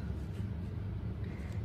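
Air conditioning runs steadily indoors as a constant low hum and hiss, faint and unbroken throughout, with no speech over it.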